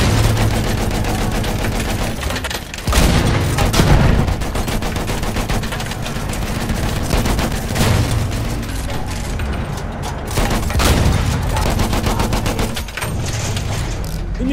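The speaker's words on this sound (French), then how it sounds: "Une mitrailleuse hostile." An enemy machine gun in Battlefield 1 on the Soissons map keeps up loud, dense gunfire with no letup, rapid shots layered with distant booms and rattling battle noise.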